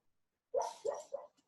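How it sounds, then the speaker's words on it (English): A dog barks three times in quick succession, fairly close and loud, with short gaps between the barks and a faint trailing yip at the end. "That's my dog."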